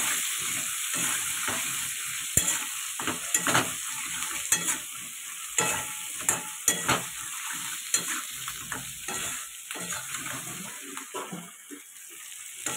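Hilsa fish cooks in a pan with turmeric, salt, ginger and cumin paste, giving a continuous sizzle and frying hiss. Irregular stirring scrapes and clinks run through it, with no talking.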